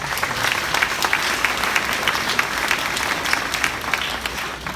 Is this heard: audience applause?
yes